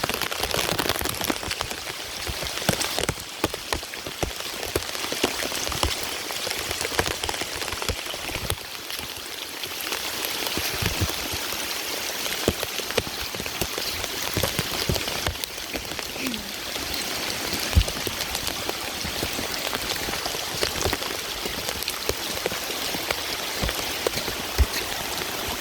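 Floodwater and rain flow through a flooded backyard in Vestavia Hills, a steady hiss of rushing water and falling rain with scattered drips and splashes throughout, no talking.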